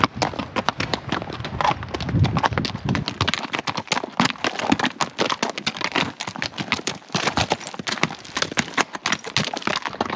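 Steady clattering of shod horse hooves on hard, rocky mountain trail ground in the Rocky Mountains, a continuous uneven clip-clop that sounds close and moderately loud.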